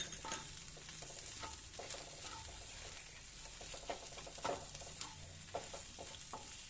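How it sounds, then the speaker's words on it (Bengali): Potato filling with turmeric and salt frying in a pan for green momo, a continuous sizzle broken by repeated scraping stirs of a spatula, close and fairly quiet, with no talking. "আবারও আমি একটু ভালো করে ভেজে নেব।"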